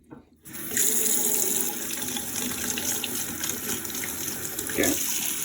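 Cold water gushes steadily from a kitchen tap into a sink, starting abruptly after a brief quiet moment and running loud and continuous throughout, with a slight splashing change near the end.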